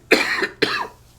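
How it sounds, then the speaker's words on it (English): Two harsh, close coughs from a man, a quick pair of bursts about half a second apart, with nothing else around them. "This cough is killing me."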